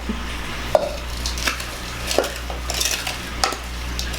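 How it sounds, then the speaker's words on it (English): A small spoon stirs sugar in a cup, giving several sharp, close clinks against the sides at an uneven pace over a low background hum. "Just going to mix it up real quick."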